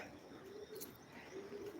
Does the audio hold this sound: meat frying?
no